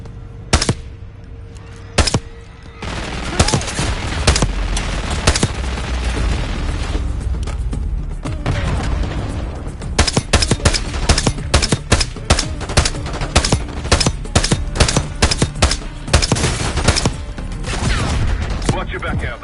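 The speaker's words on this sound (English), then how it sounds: "Elite with minigun, take him down." Sustained minigun fire from an elite enemy in Call of Duty: Black Ops 6, loud rapid bursts and continuous rattling shots mixed with booms, with brief voices underneath.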